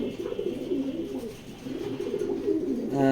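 Racing pigeons coo in soft, throaty rolling calls close by, several overlapping phrases repeating over a low background murmur.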